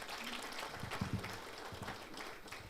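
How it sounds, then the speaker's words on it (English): Hospital staff at an award ceremony and gala dinner clapping for themselves, a soft, distant crowd applause with a few sharper nearby claps standing out, continuing steadily throughout. "Can you clap your hands for yourselves?"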